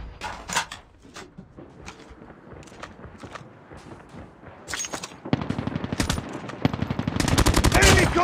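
An M4 assault rifle fires in the mobile shooter COD Mobile: loud, close, rapid automatic bursts that grow denser toward the end, mixed with scattered shots and short in-game voice callouts.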